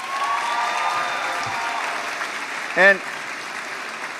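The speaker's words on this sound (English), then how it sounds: "Let's give a round of applause to our alumni." Sustained applause from a graduation ceremony audience fills the whole stretch, steady clapping throughout, with a brief spoken word near the end.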